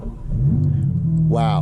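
BMW M4 CSL with an 8-speed ZF automatic fires up, giving a brief crank and then a loud revving bark that settles into a steady, deep idle rumble, with a man exclaiming over it.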